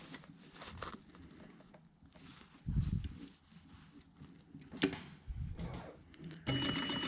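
A sewing machine stitches a jacket lining seam in short runs, quiet mechanical whirring in a few bursts between pauses and light handling rustles.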